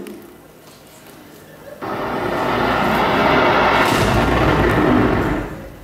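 A large blast from crates of dynamite in a warehouse bursts in abruptly after a quieter stretch, a loud sustained roar that swells and rolls on for several seconds before fading.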